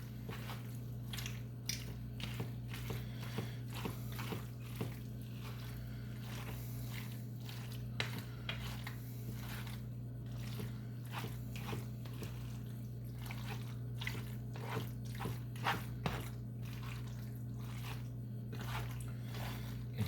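A spoon stirs carbonara, pasta coated in egg and cheese, giving soft wet squelches and sticky clicks in an irregular rhythm, close and fairly quiet over a low steady hum.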